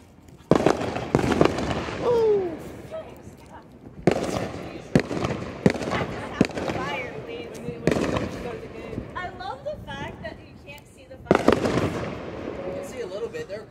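New Year's fireworks burst in a string of sharp, loud bangs and crackles at irregular intervals, some close and echoing, while people shout and cheer excitedly throughout.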